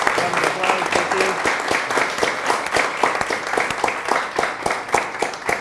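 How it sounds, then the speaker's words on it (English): Audience applause after a Skeptics Society talk on UFOs and chemtrails, a steady, dense patter of many hands clapping throughout at moderate loudness, with faint voices mixed in. "Let's give our guests another round of applause."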